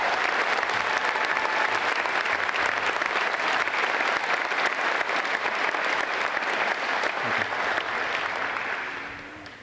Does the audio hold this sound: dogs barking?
no